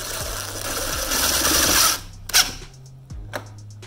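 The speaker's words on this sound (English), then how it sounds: "You're gonna take your quarter inch bit with one of those screws, and that's where you're gonna place those. They're self-tapping, so just let them do the work." A power drill driving self-tapping screws into a garage door opener bracket, a steady whirring, ratcheting run for about two seconds, then quiet, with a few short clicks and handling knocks close by.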